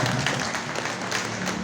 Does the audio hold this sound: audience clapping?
yes